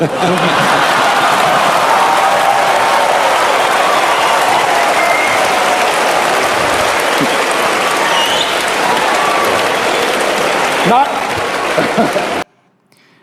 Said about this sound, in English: And that was an applause that was so worthy of it.